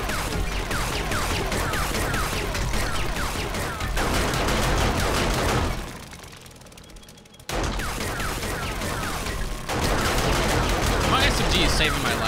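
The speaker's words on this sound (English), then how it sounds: "All these gunshots going off." Rapid SMG fire in the video game 7 Days to Die, loud, close bursts rattling almost nonstop with a short pause midway, mixed with a voice talking over the shooting.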